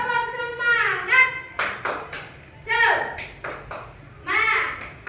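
A school class does a rhythmic spirit clap. Sharp, close claps come in quick groups between chanted voices, with the pattern repeating several times.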